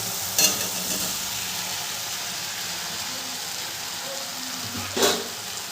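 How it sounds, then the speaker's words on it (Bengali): Fried jackfruit and potato stirred into a sizzling masala for Bengali jackfruit curry, a constant hiss of frying with two sharp scrapes of a spoon against the pan near the start and end. "এরপরে আমি দিয়ে দেবো ভেজে রাখা ইঁচড় আর আলুটা।"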